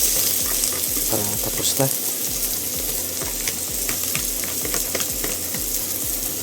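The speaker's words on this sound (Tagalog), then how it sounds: "gisa ko na yung sibuyas na ito. Yan, sibuyas at bawang." Onion and garlic sizzle steadily as they sauté in a hot pan, a continuous frying hiss with occasional stirring scrapes, while a person speaks briefly.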